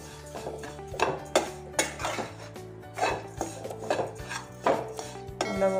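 Wheat flour, grated coconut and sugar being mixed in a pan, a spoon knocking and scraping against metal in an irregular series of clear clanks and rattles, close and alone.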